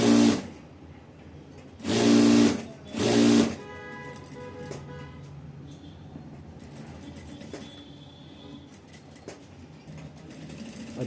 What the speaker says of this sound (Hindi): अब ये पूरे राउंड में करके हम सिलाई लगाएंगे।